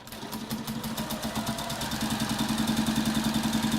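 A sewing machine runs steadily down a main seam line through fabric, its needle clattering in a fast, even mechanical pulse that holds close and moderately loud for the whole stretch, with no voices.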